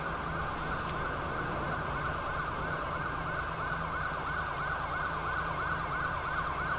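An ambulance siren from the video game GTA 5 wails in a steady, repeating rising-and-falling cycle over a low engine rumble, moderately loud and without speech.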